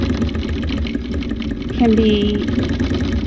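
A quilting machine stitching in the ditch on a vintage quilt runs with a steady, continuous mechanical hum throughout, with a person talking over it.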